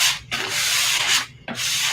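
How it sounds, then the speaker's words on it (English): Sandpaper rubs lightly back and forth over a wooden name puzzle in close, airy strokes, three passes separated by brief pauses, with no talking. "I'm just going to sand it a little bit"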